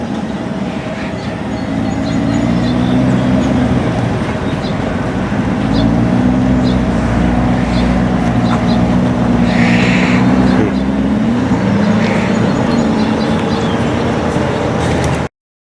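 A 2020 Corvette C8 mid-engine sports car drives at steady speed, its engine and road noise a continuous loud drone with a rising and falling low tone, while voices talk faintly in the background.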